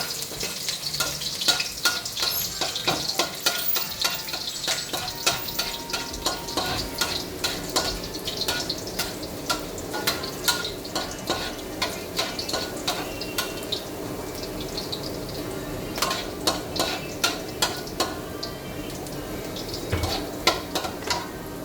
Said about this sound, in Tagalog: Magsuti na tayo ng mainit na ang mantika.